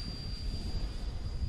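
A 64mm FMS Folland Gnat RC electric ducted-fan model jet flying at full throttle: a steady, distant whooshing roar with a thin high-pitched whine held throughout.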